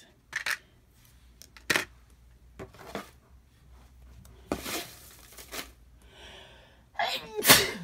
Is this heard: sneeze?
yes